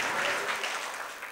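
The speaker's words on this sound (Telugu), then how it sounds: "చప్పట్లు కొట్టి దేవుని స్తుతిద్దాం." A church congregation claps together in praise, a dense, steady patter of many hands that fills the space and fades slightly toward the end.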